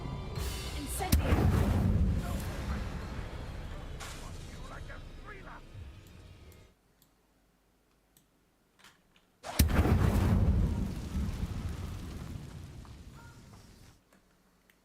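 Incendio fire spell cast in the video game Hogwarts Legacy: two loud fiery blasts, each roaring then trailing off over several seconds, separated by a brief near-silent gap.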